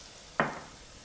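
Calves liver, seasoned with salt and black pepper, hits hot fat in a pan with a single short, crackling sizzle that quickly fades, faint against a quiet kitchen.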